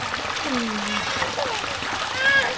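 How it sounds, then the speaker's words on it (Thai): Water flowing down from a mountain near a village, a steady close rushing and splashing with trickling, with someone talking over it. "น้ำไหลมาจากภูเขา"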